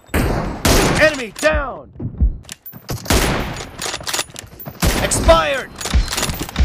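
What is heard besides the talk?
M24 sniper rifle gunfire in video game PUBG Mobile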